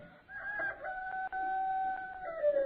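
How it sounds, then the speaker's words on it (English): A rooster crows in a biblical radio drama, one long drawn-out cock-a-doodle-doo with a brief break in the middle, heard close and alone without talk. "Wherefore dost thou tremble and pale at the crow of a rooster?"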